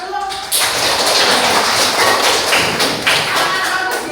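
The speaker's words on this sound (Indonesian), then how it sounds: "kasih aplaus dulu" A classroom of students claps for a classmate's answer, a dense burst of close applause with scattered louder claps lasting about four seconds.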